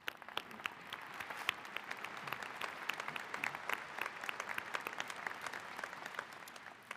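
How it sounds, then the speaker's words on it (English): Applause from a convocation audience at a university college of engineering ceremony, a dense, steady patter of many hands clapping at a moderate distance, sustained throughout without voices. "let's give him a round of applause"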